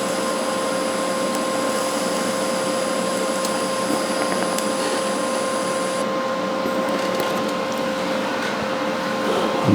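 Steady, loud MIG-style welding hiss and crackle while running a bead on sheet metal patch panels, continuous for the whole stretch with no talk over it.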